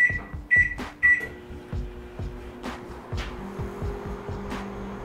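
A microwave oven is switched on with a few beeps and clicks, then its magnetron and transformer settle into a steady low hum with faint rattling, heard from a short distance.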